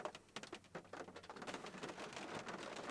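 Heavy rain drums steadily on a parked car, a dense continuous patter of drops with no voices.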